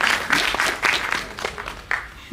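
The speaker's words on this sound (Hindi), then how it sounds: "ताली बजाओ" Audience applause at a film trailer launch event, a loud dense burst of clapping with distinct sharp claps standing out, lasting a couple of seconds.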